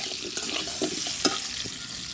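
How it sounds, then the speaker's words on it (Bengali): Potatoes fry in a wok and are stirred, with a soft, steady sizzle and light scraping taps from the stirring, quiet and close, with no voices. "মোটামুটি আরেকটু ভাজা হবে আলুটা।"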